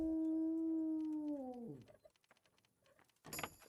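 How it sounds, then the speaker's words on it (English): A dog lets out a long, loud, steady howl in Kingdom Come: Deliverance that bends downward and fades. Quiet scattered game sounds follow, then a sharp burst near the end. "Goddamn dog."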